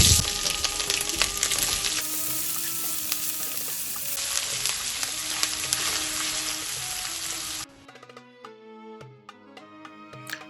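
Chopped onion sizzles loudly in a hot pan with ginger, garlic and chili paste for a spicy Bengali-style salmon and potato curry, a dense steady frying hiss that drops sharply to a gentler crackle near the end.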